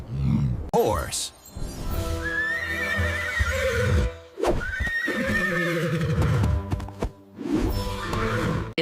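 A horse neighing: loud, close, drawn-out whinnies with quavering pitch, three long calls separated by brief pauses, the animal dominating without other sounds.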